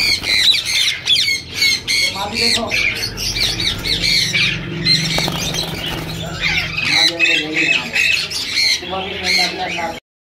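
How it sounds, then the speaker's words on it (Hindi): Yellow ringneck parrots at a Sunday bird market in Bahawalpur give loud, harsh, close squawks in rapid repeated bursts, with brief quieter gaps. "येलो रिंग नेक के एक पट्ठों का पेयर है"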